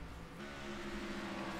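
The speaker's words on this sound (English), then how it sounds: "I'm having a hard time hearing because the engine's so loud" A race car engine in the iRacing sim at Martinsville Speedway drones loudly and continuously, a steady sustained roar with no break.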